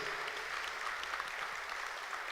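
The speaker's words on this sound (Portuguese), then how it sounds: "Vamos dar um aplauso bem forte a Jesus por esse testemunho." Steady applause from a church congregation, a dense even patter of clapping that holds at a moderate level throughout.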